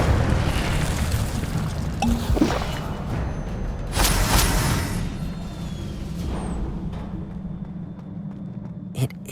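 An Incendio fire spell cast in Hogwarts Legacy: a couple of whooshing, booming fiery bursts, the loudest about midway, over a low rumbling game ambience with little else.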